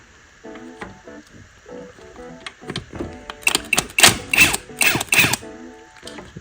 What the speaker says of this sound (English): get yourself a T30 and take this bolt off